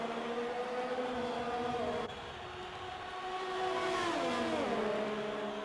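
F1 2020 race cars in a video game rounding the final corner at the Hungarian Grand Prix, a steady blend of high-pitched engine whine that shifts pitch as they brake and accelerate through the turn, continuous and fairly loud.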